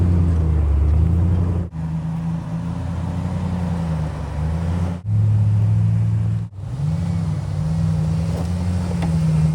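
An off-road vehicle's engine revs continuously on a trail in Los Padres, its low growl rising and falling in pitch, with a few brief drops in power, close and loud, with no talking.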